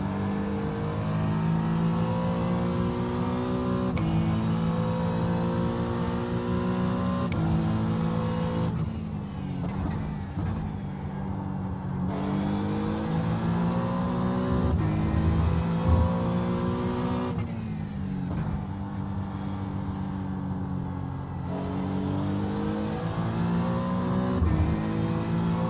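Engines of GT3 and LMP2 race cars in the iRacing game at Watkins Glen drone steadily and loudly, pitch rising and falling through gear changes as another car closes in, with occasional tire squeal.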